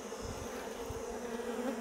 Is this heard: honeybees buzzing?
yes